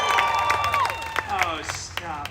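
Audience at a live Deadpool storytime show at Disney California Adventure claps and cheers briefly, scattered claps and whoops under a performer's voice talking over the crowd.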